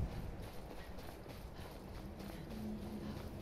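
Horse hooves clip-clop in The Elder Scrolls V: Skyrim, the even footfalls steady and moderately close over a soft, windy snowstorm backdrop with no voices.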